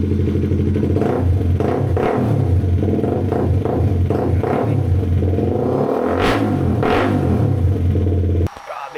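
A 2025 CFMOTO 250SR Lite motorcycle with a new full exhaust system and ECU remap revs hard in repeated throttle blips over a loud, steady rumble, close up, then cuts off abruptly near the end.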